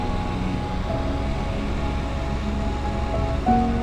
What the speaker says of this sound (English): Look at all this fog coming from the waterfall here.